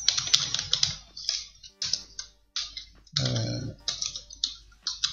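Rapid bursts of computer keyboard typing while writing CSS code, close and crisp, with irregular clusters of keystrokes separated by short pauses and one heavier clatter midway.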